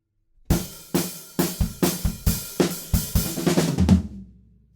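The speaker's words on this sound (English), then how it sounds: "there's a fill that kind of goes like this." A drum kit plays a fill from a song: about a dozen sharp, evenly spaced hits that speed into a quick flurry and end on a ringing crash, loud and close with no talking.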